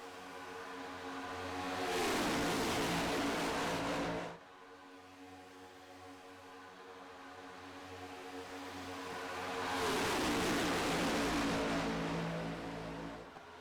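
Next Gen stock cars at full throttle at Daytona in the iRacing sim, a steady engine drone that swells loudly twice as cars roar past, with quieter running between the passes.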